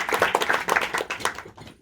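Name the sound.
audience applause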